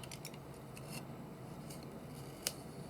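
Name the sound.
scissors cutting paper for a junk journal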